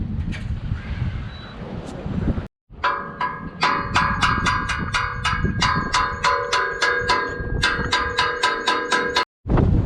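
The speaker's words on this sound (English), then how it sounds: "so I can beat on the header" Rapid metallic hammer blows ring out against a car's exhaust header, a fast, even series of sharp close strikes over wind noise, broken by two brief silences.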